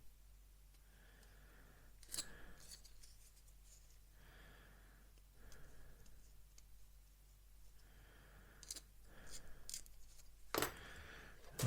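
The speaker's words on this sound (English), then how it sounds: "Plastic's certainly very easy to cut." A scalpel blade cuts plastic parts from an Airfix 1/48 Bristol Blenheim Mk1 model kit: several faint scraping and snipping strokes, spaced a few seconds apart, with a few sharp clicks over a quiet low hum.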